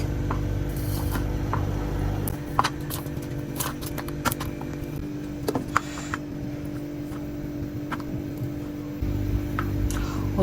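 Drill working through a prepared steel piece being holed in a workshop, a steady mechanical whir and grinding with repeated sharp clicks and knocks, close and continuous for about ten seconds with no talk.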